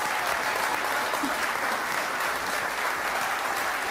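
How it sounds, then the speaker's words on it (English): A live audience at a televised paranormal investigation show breaks into a sustained, even round of applause, dense and continuous with no speech over it. "ladies and gentlemen, give her a round of applause for her"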